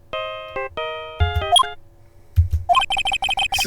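Steel Samurai theme ringtone from Phoenix Wright: Ace Attorney, a bright melodic phone tune of held electronic notes, broken by a short pause and then resuming in a quicker, rising phrase.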